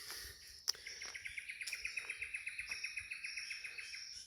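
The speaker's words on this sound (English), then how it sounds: "So that's the loon's honey eater telling everyone to look out for me." Lewin's honeyeater in Ravensbourne National Park, Queensland, gives a rapid, evenly spaced run of sharp chattering alarm notes, about twenty in a steady rhythm, fairly close and clear against quiet bush background.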